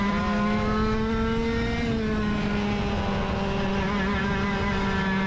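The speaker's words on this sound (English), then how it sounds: "accelerating out of the corner, and especially on the straightaways, is where the shifter carts blow us away" Shifter karts accelerating on a race track, a loud, buzzing high-revving engine whine that rises steadily in pitch, close and continuous, with no talk.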